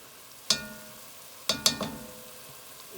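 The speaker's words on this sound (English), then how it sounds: "So we're gonna add the garlic." Garlic tossed into a pan of softened, translucent onions gives a few sharp sizzling bursts that quickly fade into a quiet, low hiss.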